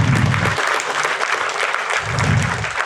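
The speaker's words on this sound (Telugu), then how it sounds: "ఆయనకు ఒకసారి చప్పట్లు కొడదాం" Audience applause at a youth spiritual talk, steady and fairly loud, filling the whole stretch as a dense wash of clapping with no speech over it.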